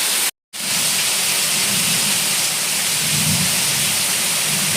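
Heavy rain pours steadily during a storm, a dense continuous roar close by with low rumbling of thunder underneath; a brief dropout breaks it near the start.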